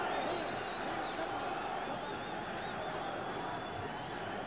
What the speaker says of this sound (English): The crowd is yelling, "Let's go, Floyd."